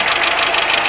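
A Renault Logan's 1.4 injector engine idles with a brief, steady, even hum and a slight knocking texture, recorded close with no talk.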